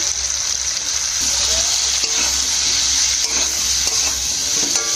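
Onion, potato, turmeric, salt and ground spices are sautéed in oil for a Chandana fish curry, producing a loud, steady hiss of frying with occasional faint stirring scrapes, close up and without talk.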